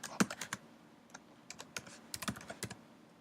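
Computer keyboard typing in short irregular bursts of sharp clicks, close and fairly quiet, with no voices.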